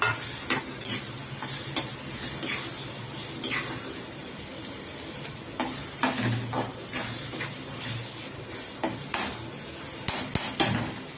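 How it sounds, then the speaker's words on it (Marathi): Prawns fry in masala with released oil, the pan stirred repeatedly: steady sizzling under sharp scraping and clinking strokes that cluster toward the end. "थोड्या वेळ कोळंबी याच्यात फ्राय करूया."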